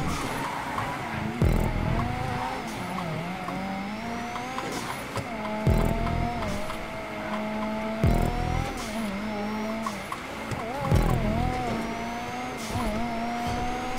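Ferrari racing car in the GTA video game, engine note rising and falling steadily through gear changes with repeated bursts of acceleration and revving, loud and close throughout without any talk.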